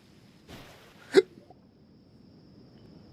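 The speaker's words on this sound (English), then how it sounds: "Got hiccups now." A single sharp hiccup from a person playing a video game, short and close, with a faint breathy sound just before it and quiet surroundings.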